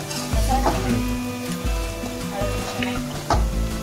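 Onions frying to golden brown for stuffed brinjal, a loud close sizzle broken by repeated spatula scrapes and stirs against the pan, with no talking.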